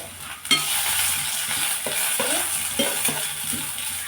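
A dried fish mixture sautéing in oil in a pan, with a steady sizzle under intermittent scraping stirs of a spoon against the pan, close and fairly loud.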